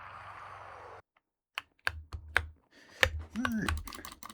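Keys on a mechanical keyboard clack in short, sharp bursts while a player games, loud and close. A voice speaks between the bursts, and a brief hiss of background noise comes before them.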